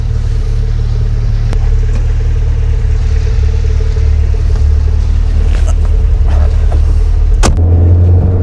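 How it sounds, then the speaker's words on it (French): A 1970s Renault 17 coupé driving on the road, a loud constant low engine and road rumble from inside the car with occasional sharp knocks and a deeper surge near the end, no speech. "Dominique a accepté de me prêter la voiture pour aller faire un tour, je vous emmène"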